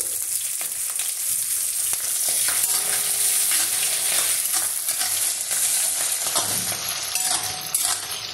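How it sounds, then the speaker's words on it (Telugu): Onions frying in a pan for ginger curry, a loud continuous sizzle close up with occasional stirring scrapes and no talk. "ఉల్లిపాయ కూడా వేగిపోతుందండి."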